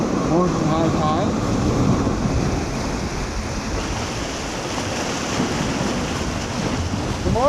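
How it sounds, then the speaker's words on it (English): Ocean surf at high morning tide near Tower 7 rolls and crashes continuously, loud and close with heavy wind buffeting the microphone and faint voices mixed in. "I'm just sitting here watching the waves"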